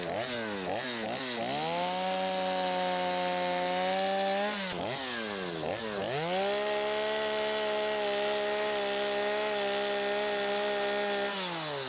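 Stihl 025 chainsaw with a broad-tip stock bar and quarter-pitch chain carving wood into a hand, close and loud, the engine revving up and bogging down in sweeping pitch bends between sustained cutting runs.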